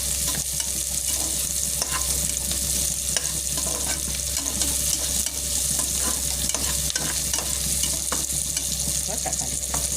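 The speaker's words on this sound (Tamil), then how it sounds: "நல்லா வதக்கலாம்" Greens, cauliflower and onion sauté in a preheated pan, giving a continuous close sizzle with light stirring scrapes throughout and no voices.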